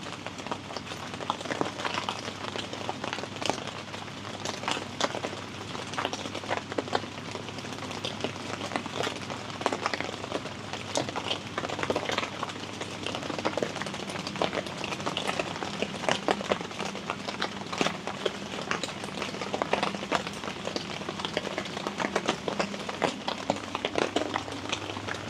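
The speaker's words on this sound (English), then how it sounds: "we're going to probably listen to the rain and just chill out the rest of the night inside." Steady rain falls on a tent pitched in a backyard, a dense continuous patter of drops on the fabric lasting throughout, with no talking.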